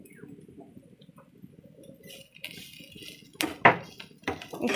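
Onion and ginger stirred in a pan while cooking a goroi fish dish: scattered metallic scrapes and clinks of a utensil against the pan, growing louder and sharper toward the end, with no talk.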